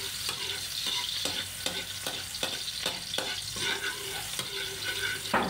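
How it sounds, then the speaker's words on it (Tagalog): Onion stirring and frying in a pan, with a steady sizzle broken by regular scraping strokes of the spoon, close and fairly loud throughout with no talking. "Sunod natin ang sibuyas."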